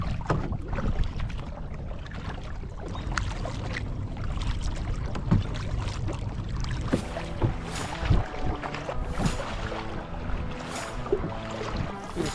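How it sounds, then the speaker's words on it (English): Kayak paddling on the Lower Wisconsin River, with steady rhythmic paddle strokes and water splashes near the boat, set against a continuous wash of wind and moving water. "Ready to be done paddling for the day though."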